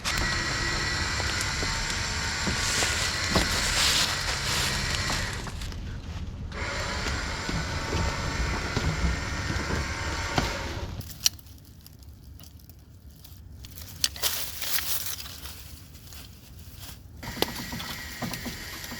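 A rotting 1985 Ford Bronco II is dragged out with a snatch block, giving long stretches of grinding, scraping mechanical noise with ratcheting and creaking. A quieter gap follows, broken by a few sharp knocks and clunks.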